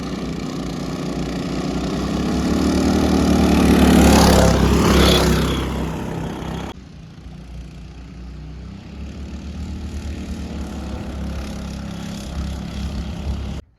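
Two mini bike engines racing, one fitted with a Wildcat motor and the other stock, roaring loud and close as they rev up and pass around four to five seconds, then a steadier, quieter drone continues.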